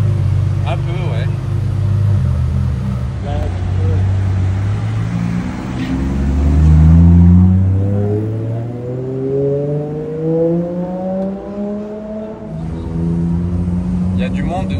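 A Ferrari Monza SP2 revs through the streets of Monaco, its engine rising and falling in repeated pulls, loud and fairly close, while people talk over it.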